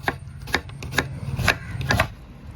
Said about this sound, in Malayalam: അതിന് ആദ്യം നമുക്ക് സവോള അങ്ങ് അരിഞ്ഞു കൊടുക്കുക